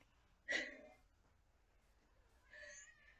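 A cat gives a single short meow, faint and fairly close, followed by a softer, breathy trailing sound in an otherwise quiet room.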